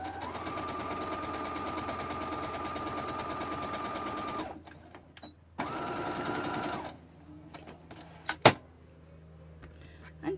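A home sewing machine runs in two bursts of forward and reverse stitching, steady and close, separated by a short pause, followed by quieter handling clicks and a sharp snap near the end.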